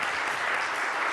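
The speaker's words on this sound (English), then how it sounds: "can we give them a round of applause" Audience applause for the panelists at the close of a CLAGS 25th anniversary executive directors panel, a steady dense wash of clapping that runs unbroken and fairly loud through the whole short stretch with no talk over it.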